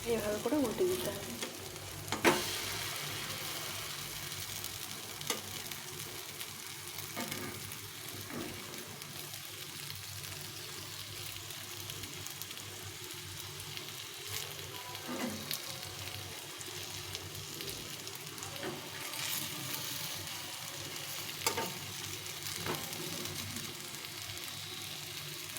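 A tiffin snack fries in ghee or oil on low heat in a pan while being turned over, a long, even sizzle with scattered scrapes and clicks from the spatula.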